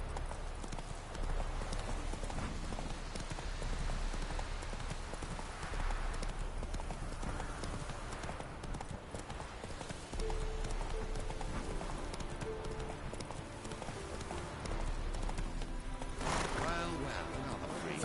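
Hooves of the horse Roach galloping in a video game, a rapid steady clip-clop rhythm running throughout at close range, with occasional game sounds over it.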